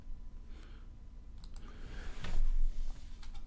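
A computer mouse clicks a web form's submit button, a few sharp clicks against a soft, breathy room background, fairly close.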